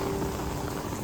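Steady rain falls in an outdoor city setting near a cafe, a dense, loud, close hiss of drops on surfaces filling the whole short moment with no voices.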